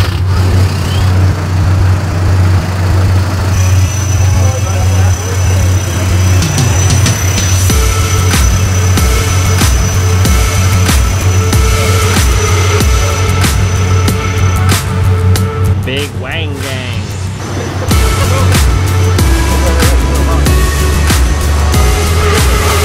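A turbocharged, full bolt-on Infiniti Q60 running E85 pulls hard, loud engine roar and wind noise filling the cabin continuously, with rising revs and a brief dip partway through.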